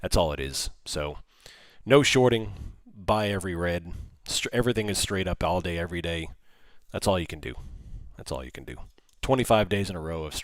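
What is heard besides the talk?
No distinct noise like a dog, phone or traffic.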